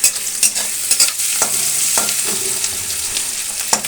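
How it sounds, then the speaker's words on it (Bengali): Onions browning lightly in unsalted oil for a mutton curry, stirred in the pan; a loud, bright, continuous sizzle punctuated by regular scraping strokes of the spoon, close up with no voices. "এবার আমার পেঁয়াজটা হালকা ভাজা ভাজা হচ্ছে"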